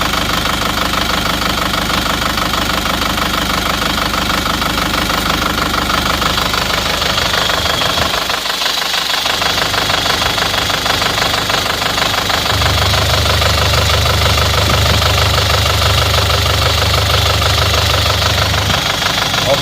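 An Isuzu Panther diesel engine, hot, with 22 bar compression, idles steadily and loudly with a rough, knocking rattle; partway through, a deeper low hum joins in and holds.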